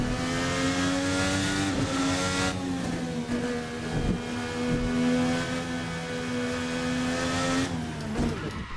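A VRC Formula NA 2018 formula race car in a racing simulator holds a loud, high-pitched engine whine at sustained revs, with short dips in pitch as it shifts and lifts off the throttle.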